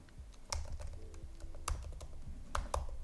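Keystrokes tap out on a computer keyboard while editing in Vim, a few sharp, irregular clicks close by in a quiet room.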